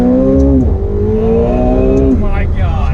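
A 2019 McLaren 720S drops through the gears, its engine note stepping down in loud, close blips while braking, with a passenger's excited voice carrying over the engine.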